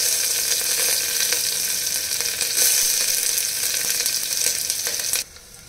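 Onion fries in hot oil and ghee with a loud, dense, continuous sizzle close by, with faint stirring, cutting off abruptly near the end.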